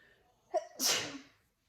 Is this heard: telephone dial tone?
no